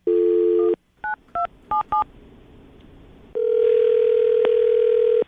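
A telephone places a call: a steady tone cuts off, four short keypad beeps follow, and then a long, loud, steady line tone begins and holds to the end. The sound is clear and close.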